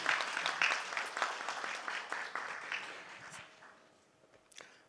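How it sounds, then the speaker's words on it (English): An audience at a formal conference session claps to welcome an ambassador, steady and fairly close, then thins out and fades over several seconds. "Please give him a big round of applause."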